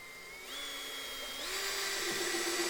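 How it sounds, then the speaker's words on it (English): A battery-powered screwdriver drives stainless steel square-drive screws into a chicken coop door, its motor whine rising in pitch as it speeds up and holding steady close by, with no talking. "Battery powered screwdriver,"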